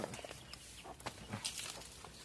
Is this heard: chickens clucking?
yes